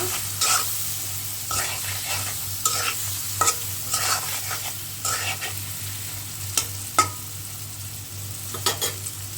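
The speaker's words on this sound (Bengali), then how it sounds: "তেলের সাথে একটু ভালো করে চিংড়িগুলোকে আমি ভেজে নিব।" Prawns fry in hot oil with a continuous crackling sizzle, broken by repeated scraping strokes of a spatula turning them in the pan, heard up close with a low steady hum beneath.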